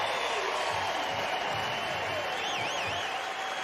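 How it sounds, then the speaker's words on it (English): A stadium crowd applauds steadily and continuously at a women's 5000m track race at the US Olympic Trials, a dense, even wash of clapping and cheering with a faint whistle-like tone riding on top. "the crowd love it and acknowledge that athletic excellence"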